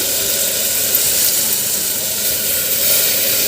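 Dal hits a hot pan in a home kitchen and sizzles with a steady, loud hiss that holds evenly throughout, close up and alone with no voices.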